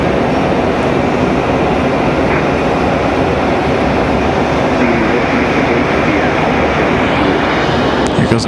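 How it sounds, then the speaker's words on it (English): A CRJ jet's engines spool up at Raleigh-Durham International Airport, a loud, steady broadband roar that holds without pause throughout. "Goes our CRJ starting up."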